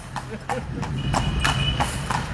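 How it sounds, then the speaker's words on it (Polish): Hooves of a carriage horse in Alexandria pick up speed in a brisk, regular clip-clop. The sound is close and clear, with voices and street noise in the background. "Koń nabrał prędkości."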